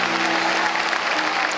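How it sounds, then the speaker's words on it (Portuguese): A church congregation applauds together during a Portuguese-language worship service, with dense, steady clapping that fills the space at full volume from start to finish. "Aplauda o Rei Jesus e tome o seu assento."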